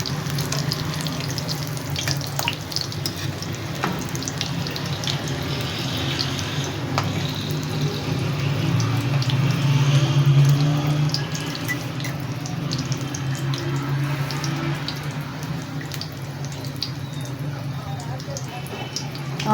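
Potato kebabs shallow frying in a pan, a steady close sizzle running throughout, swelling slightly midway.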